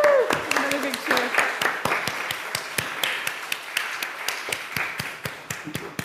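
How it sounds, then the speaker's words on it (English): A church congregation claps and cheers at a membership Sunday service, a sharp burst of applause that thins into scattered individual claps, with a voice whooping at the start. "Yay, okay. Yay, woo! Another big cheer."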